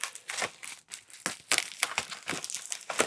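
A heavily taped reused Amazon cardboard box being opened up close, bursts of crinkling, scraping and tearing cardboard and tape in irregular quick handfuls with short gaps.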